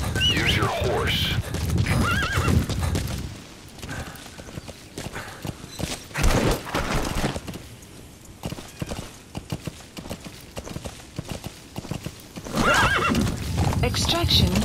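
A horse in Metal Gear Solid V whinnies loudly, with hooves clip-clopping at a walk and other game sounds around it. A voice speaks in places.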